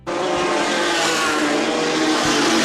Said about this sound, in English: And the trucks, to say the least, sounded very, very interesting.